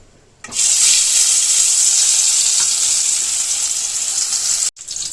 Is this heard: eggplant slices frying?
yes